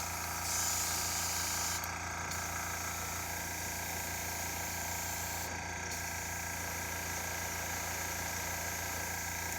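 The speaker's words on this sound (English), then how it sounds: "my air compressor does its thing" A hobbyist's air compressor running steadily nearby, a continuous mechanical drone and hum with constant loudness throughout and a faint hiss near the start, no speech.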